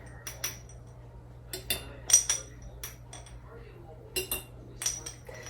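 Glass quart jars clinking against each other during home canning, several short bright clinks in scattered clusters over a low steady hum, with no speech heard.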